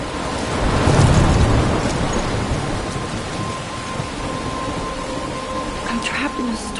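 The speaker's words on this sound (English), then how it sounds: "I'm trapped in a storm?" A stormy downpour with a rumble of thunder in the Life is Strange video game, heavy rain hissing steadily and a low roll swelling early then fading into the constant wash.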